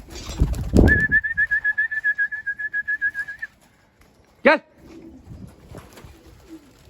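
Young homing pigeons during roof training on their loft give a run of thin, rapidly pulsed piping squeaks, then a single sharp rising call, with a faint voice and quiet rustling afterward.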